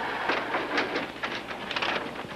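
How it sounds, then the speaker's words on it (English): A train rolls past on the main track, with a steady close rumble and bursts of rattling clatter from the wagons and no voices. "We have to let another train pass"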